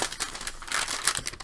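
Hard plastic packaging on a 1997-98 Donruss Preferred hockey card tin is pried and torn open by hand, a quick burst of close crinkling and crackling with a few sharp snaps.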